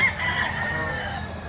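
A rooster crows in one long drawn-out call at a chicken sale in Lipa, Batangas, close and fairly loud against a busy background murmur.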